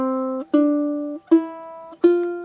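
A ukulele plays four plucked notes in a steady, unhurried rhythm, each ringing clearly and decaying before the next.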